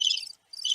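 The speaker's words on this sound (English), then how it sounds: "Crickets." A soundboard cricket effect gives two short bursts of high, shrill insect chirping separated by a brief silence, loud and close with no voices.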